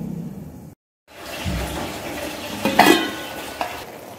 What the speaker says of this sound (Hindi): हम अंदर अंदर हल्का हल्का चम्मच चलाते जाएंगे।